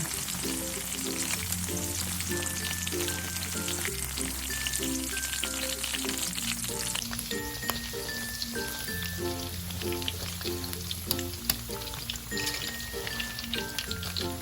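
Taro and sweet corn fritters fry in oil with pandan leaves, giving a steady, dense sizzle that runs the whole way under prominent background music.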